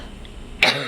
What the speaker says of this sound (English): I don't know why I have like a cough all of a sudden.